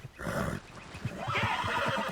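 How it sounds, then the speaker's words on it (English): A horse in Red Dead Redemption 2 gives a loud, close whinny that rises and then breaks into a series of snorting neighs. "that's a nice-looking horse you have there"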